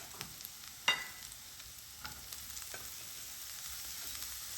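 Cauliflower frying with spices in a pan gives a steady soft sizzle throughout, with a few sharp clinks and scrapes of a utensil early on.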